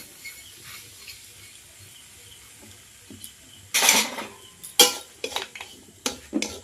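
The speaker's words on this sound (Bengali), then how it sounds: "সুজিটা এই ঘিয়ের মধ্যে দিয়ে দেবো ভেজে নেব সুজিটা দিয়ে ভেজে নেব" Semolina in ghee is stirred in a hot kadai. A faint, quiet stretch gives way to sharp bursts of spatula scraping and clatter against the metal, close by and irregular, with no voices.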